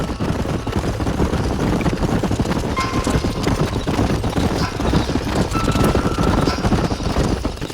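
Horses in Red Dead Redemption, ridden by a group of cowboys, clop along steadily in a dense, continuous patter of hooves, fairly loud and close, with faint background activity.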